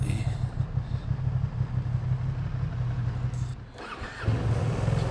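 A Ducati Streetfighter V2 motorcycle engine fires up, a steady low rumbling idle with a brief dip before the engine catches again and settles into a loud, close throb.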